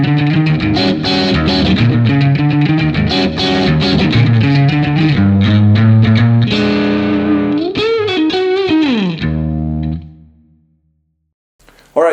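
Electric guitar playing a blues riff, with rapid driven overdriven notes and bends in a fast continuous run that stops abruptly near the end, followed by a brief silence.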